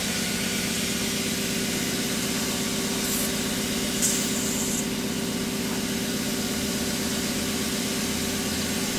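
A steady hiss of compressed air flows continuously into a tractor tyre over a low idling engine hum, with a brief higher hiss partway through.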